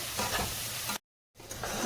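Spice paste for a katla fish curry is stirred and sautéed in a pan, a short burst of close sizzling and scraping interrupted by a sudden moment of silence before resuming.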